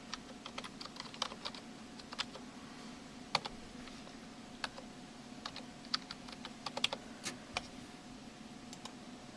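Rapid, light clicking of fingers typing on a computer keyboard to log on, with irregular keystrokes and a few sharper taps over a quiet room background.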